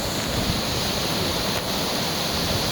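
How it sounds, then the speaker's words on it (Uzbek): A small spring flows out from under a rock, giving a steady, close rushing and gurgling of water that stays even throughout, with no voices. "Mana oqib turibdi buloq."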